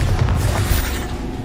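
A Bombarda spell explodes in Hogwarts Legacy, giving a deep, rumbling boom that stays loud and dense for the whole moment before easing slightly toward the end.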